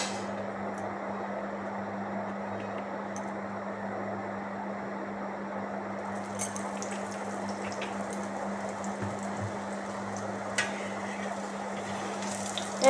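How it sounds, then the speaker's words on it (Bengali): Parathas frying in a little oil for a healthy school tiffin, flipped on both sides, give a steady soft sizzle with a constant low hum beneath and a few small clinks, no voices. "এইভাবে কম তেলে এপিট ওপিট করে পরোটাগুলো ভেজে নিতে হবে"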